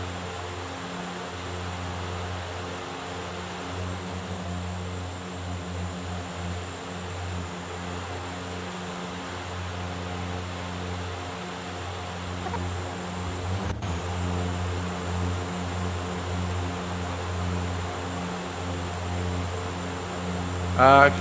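A FlyJSim Dash 8 Q400 turboprop in the X-Plane 11 flight simulator gives a steady engine and propeller drone with layered low hums that stays even and moderately loud throughout, with no talking.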